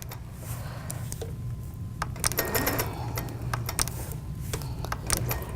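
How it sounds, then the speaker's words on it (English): A sewing machine runs steadily while backtracking over its previous line of stitching, a close, continuous mechanical whir with rapid clicking needle strokes and a few brief louder bursts. "I'm kind of back tracing a little bit, stitching over the last stitching"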